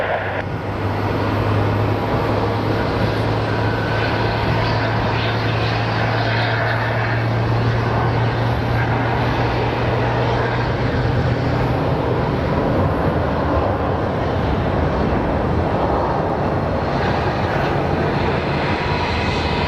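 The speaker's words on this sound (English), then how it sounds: "so this is the A320." An Airbus A320 jet airliner on the runway at Phoenix Sky Harbor airport, a loud continuous engine roar with a steady low hum, heard from nearby, with no talk over it.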